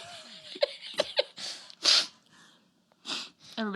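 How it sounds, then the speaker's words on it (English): Someone sneezes in a sharp, loud burst, surrounded by breathy snorts, short huffs and giggly noises at close range. "I keep sneezing."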